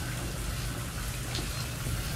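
Steady rushing water from a tap in the video game Alien: Isolation, a constant broadband flow heard alone at moderate volume.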